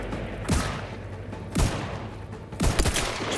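Gunfire in The Outer Worlds 2 on Very Hard difficulty: three sharp bursts of shots about a second apart, each a punchy crack with a short rumbling tail.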